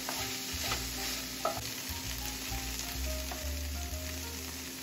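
Egg-free scrambled egg substitute frying in a pan, a soft steady sizzle with a few faint stirring scrapes, fairly quiet and close, with no talking.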